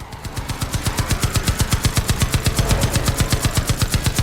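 A high-powered machine gun fires at zombies in Far Cry 5, a rapid, evenly spaced burst of loud shots that builds in from a quiet start and continues without pause.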